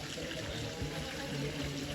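Spring water flowing down by an old temple in Ratnagiri, Dapoli, a steady soft trickle and pour running continuously at moderate distance, fairly faint.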